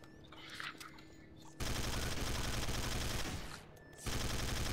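Rapid automatic gunfire in Garry's Mod TTT aimed at manhacks, two loud sustained bursts separated by a short pause, dense and close.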